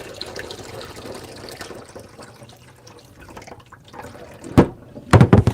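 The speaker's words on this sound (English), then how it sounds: "now we're putting fresh water in" Fresh water running from a tap into a cooking pot for homemade German potato soup, a low steady trickle with splashy gurgles that grow louder near the end.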